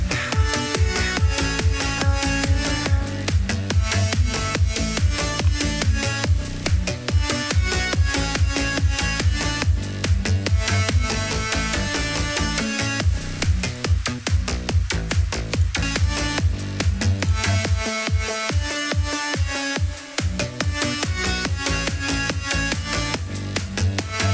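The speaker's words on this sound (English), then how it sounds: "that's basically the psytrance bass and the lead and the vocals" A driving psytrance track with a pounding rolling bassline, bright synth lead and vocal layers, loud and continuous, with a brief bass drop near the end.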